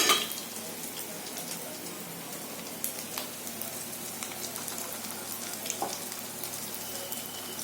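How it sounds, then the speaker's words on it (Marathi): Vegetable cutlets shallow frying in a little oil in a pan, a steady soft crackling sizzle that runs without a break from start to finish, with occasional small pops over it and no talking. "हे शालो फ्राय करायचे तेलात तळायचे नाही"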